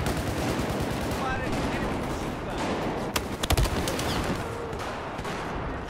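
Gunfire in Battlefield 4 multiplayer Conquest on Xbox One: a dense, steady wash of battle noise with a quick cluster of sharp shots around the middle, under game ambience.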